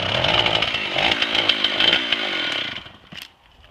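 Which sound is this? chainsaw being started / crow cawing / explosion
chainsaw being started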